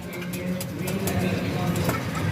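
Racing pigeons trained in hot midday weather, cooing and fluttering near a loft amid steady outdoor background noise, with a voice faintly present.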